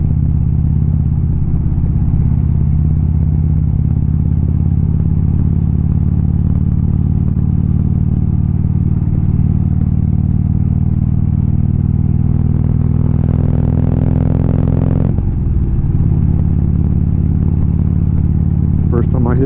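Harley motorcycle cruising through East Bay canyon roads, a loud, steady engine drone close to the rider with a brief change in tone near the end.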